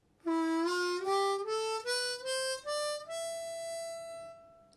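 A harmonica plays a natural minor scale, climbing note by note in about seven clear, reedy steps before holding the top note. The tones are bright and clean, close and solo, with no voices.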